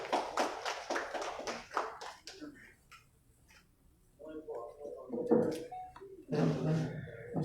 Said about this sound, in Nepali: हामी ताली बजाउँदैछौँ।